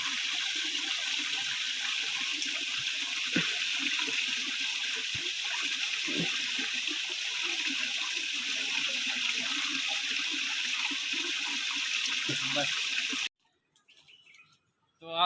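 Very cold water flowing steadily through a forest in Himachal Pradesh, a loud constant rush with birds chirping faintly in the background, cutting off abruptly near the end.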